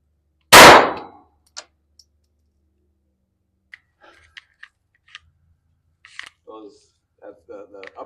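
A single sharp, loud shot from a .22 pistol in a Glock 44 versus Taurus TX22 shoot-off, followed by quiet handling clicks and faint voices.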